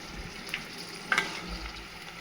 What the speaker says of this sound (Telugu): బాగా ఫ్రై అవ్వాలి, లేదంటే ఎక్కువ డేస్ ఉండదండి చికెన్ పచ్చడి